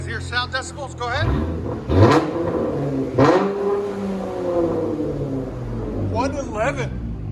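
A Dodge Charger 3.6L V6 fitted with Dynomax mini bullet resonators revs sharply twice, the engine climbing and falling back to a rumbling idle, with a person speaking briefly at the start and end.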